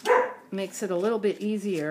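Dogs bark outdoors while someone talks close by about binding a mini book; the yips and barks come in short bursts under and between her speech.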